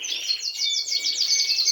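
Canaries sing in a bright, rapid, continuous warble of repeated trills and chirps, close and fairly loud, without pause and with no talking.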